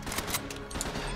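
Rapid gunfire in Uncharted 3 as a shielded enemy is shot repeatedly in the legs, a quick string of sharp, fairly faint shots over a low rumbling game backdrop.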